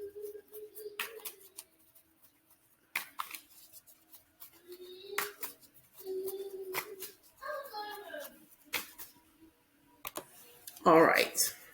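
Oracle cards are shuffled in quick bursts of crisp, papery snaps and flutters, separated by pauses; the handling is close and fairly quiet, and a voice briefly murmurs between bursts.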